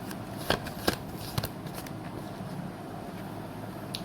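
Tarot cards shuffled by hand before a clarifier card is drawn: a few soft flicks and snaps stand out early against a quiet, steady shuffling hiss.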